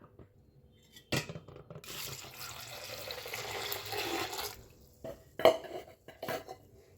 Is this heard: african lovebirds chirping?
no